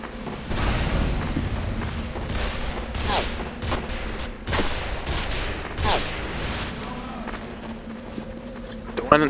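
Team Fortress 2 gunfire: a series of sharp, loud shots and bursts at irregular intervals, some close and punchy, others quicker, over a low hum of game ambience.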